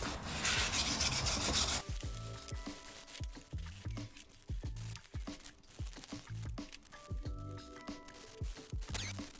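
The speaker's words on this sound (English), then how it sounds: "I'm just gonna use my wire brush to clean this up." Steady scratchy rubbing of a wire brush scrubbing a tractor starter clean, close up, in a long continuous pass followed by shorter repeated strokes, with no talking.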